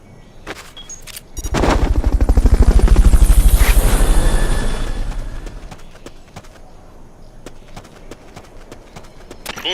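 Helicopter rotors in the video game Metal Gear Solid: Peace Walker, a loud rhythmic chopping that swells over a few seconds then fades, with scattered sharp gunshot cracks throughout.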